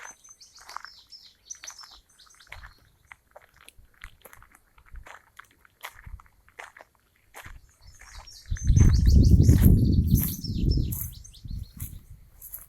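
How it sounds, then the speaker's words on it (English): Birds chirp in short, scattered high tweets outdoors, with a louder rumbling rustle close by near the end. "I hear birds more often than I see them."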